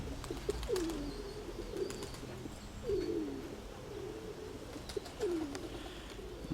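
A pigeon coos softly in repeated low, rolling phrases, roughly every two seconds, with faint chirps and outdoor background around it.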